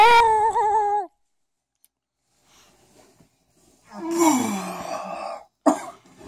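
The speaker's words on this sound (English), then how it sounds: "You coughed on me." Harsh, raspy coughing after smoking a big pipe of kush comes in a noisy fit with a final sharp bark. A brief voiced groan comes earlier, then a near-silent gap.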